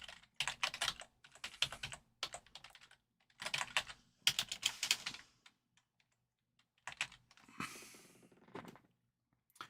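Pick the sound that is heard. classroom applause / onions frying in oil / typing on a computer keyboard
typing on a computer keyboard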